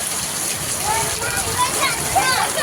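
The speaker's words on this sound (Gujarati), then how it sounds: "ચારે બાજુ વરસાદ છે આજ તો" Heavy rain pours in a dense, steady roar, loud and close, with faint voices blending into the downpour.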